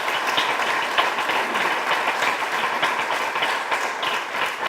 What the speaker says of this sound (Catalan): torno a demanar un fort aplaudiment per a tots els participants